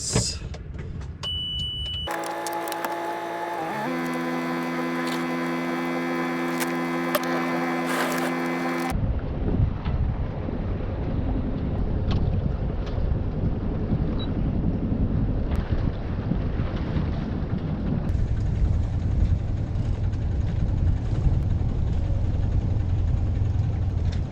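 Inboard engine of a sailboat motoring back into port after the sails are lowered, a steady tonal drone at first, then giving way to continuous wind buffeting and water rush.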